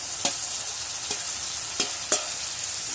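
Garlic, green chilli, ginger and curry leaves fry in a pan with a steady close sizzle, broken by a few light spoon taps as the mix is stirred.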